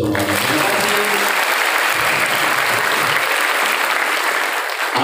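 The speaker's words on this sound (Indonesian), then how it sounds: "Tepuk tangan kita semua." At a motivational seminar for SMK Amaliah vocational students in Ciawi, Bogor, a large audience breaks into loud, dense applause that fills the room with continuous clapping and no voices.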